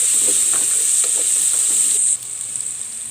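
Chicken curry base with turmeric frying in a pan, giving a loud, close, hissing sizzle that runs on unbroken and drops slightly in level near the end, with no voices.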